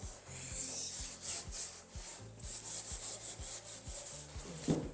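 Repeated rubbing strokes of sanding on primed wood, a steady scratchy back-and-forth rhythm, close and fairly quiet.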